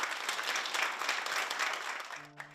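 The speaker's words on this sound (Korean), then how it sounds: "공헌자분들이 소개되고 큰 박수를 받았는데요" Sustained applause from an audience greeting honoured contributors at a ceremony for Jeju-born residents of Japan, a dense steady patter that fades out near the end as a low tone enters.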